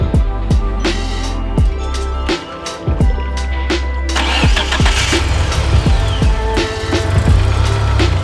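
A Mitsubishi Eclipse with a blown head gasket cranks through a series of rhythmic starter turns, catches, and settles into a loud, steady idle heard up close.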